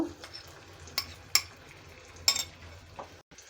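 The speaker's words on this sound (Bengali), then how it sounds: "এখন আমি ফ্রাই প্যানে আমার যে বাটা মিশ্রণটি আছে আমি সেটা সম্পূর্ণটা দিয়ে দিব" Salted hilsa fish paste frying in mustard oil in a frying pan, with a low sizzle broken by a few sharp spatula scrapes and clinks, close and fairly quiet.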